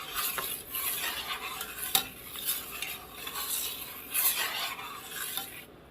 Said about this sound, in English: So you just keep stirring it